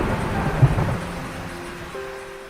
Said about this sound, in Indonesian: Langit bergetar, suara petir menggema dari jauh, dan pada saat itu, badai besar mulai mendekat.